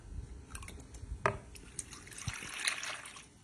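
Milk pours into a bowl of butterscotch pudding mix, a soft liquid splash and trickle with a few light knocks, close and moderately quiet, with no voice.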